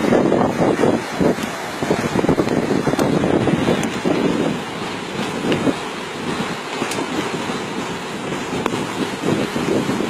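Heavy wind roars around a bus on the road between Tinghir and Ouarzazate, a loud continuous rush with gusting swells close to the microphone, and no clear speech.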